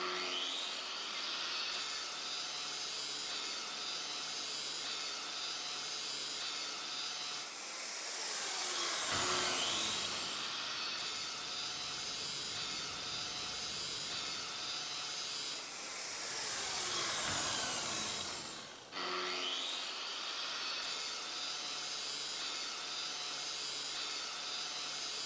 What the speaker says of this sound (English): Let's kind of grind those welds off